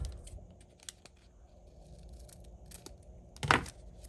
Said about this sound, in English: I went ahead and just trimmed the corners